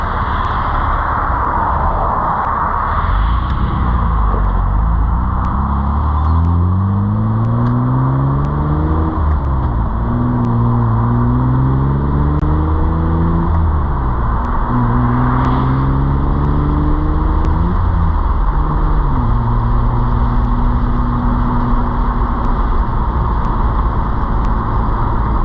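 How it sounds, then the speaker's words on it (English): A 2003 Mitsubishi Eclipse GTS Spyder with a 3.0L V6 and swapped manual transmission drives steadily, the engine note rising through the gears with smooth shifts, then settling to a steady hum with no talk. "what a good driving swapped manual transmission sounds like"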